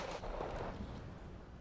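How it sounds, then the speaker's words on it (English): Autocannon fire sounds in the video game Wargame Red Dragon as a dense, muffled rumble of distant rapid shots that runs steadily through the moment without clear separate bursts. "Basically a lot of autocannon power here, a lot of autocannon power."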